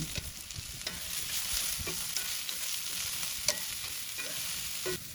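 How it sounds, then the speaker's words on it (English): Onions and peppers sizzle in oil with spices on a grill. A steady, close frying hiss carries occasional stirring scrapes and clicks, with no voices. "Then I add a little oil and spices and get the onions and peppers grilled to perfection."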